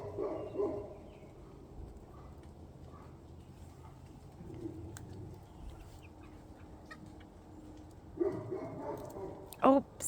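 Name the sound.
dog barking a few doors down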